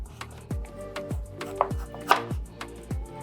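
A knife cuts a carrot into thin julienne strips on a cutting board, making about eight crisp, evenly spaced chops that are close and distinct with no talk.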